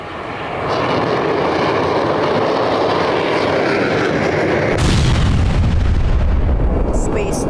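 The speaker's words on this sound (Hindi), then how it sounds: "लेकिन जैसे ही रॉकेट सतह से 30 फीट ऊपर उठा, जोरदार ब्लास्ट हुआ।" Space One rocket blowing up moments after liftoff: a steady loud roar of the launch gives way abruptly to a heavy, deep rumbling blast that swells and lingers to the end.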